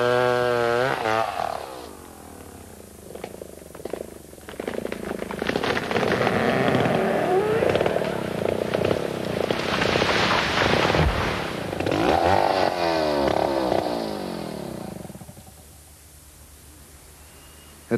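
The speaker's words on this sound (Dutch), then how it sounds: "In luttele seconden bezwijken eeuwenoude woudreuzen voor het geweld van de kettingzaag." A chainsaw felling tropical rainforest trees roars loudly and steadily, its engine pitch rising and falling as it cuts, then drops to a lower idle near the end.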